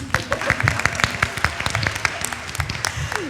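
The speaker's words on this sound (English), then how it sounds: "Round of applause." Audience applause at a women's discussion panel on Hanford, moderately loud scattered clapping with sharp individual claps mixed in, steady across a few seconds, with some voices murmuring underneath.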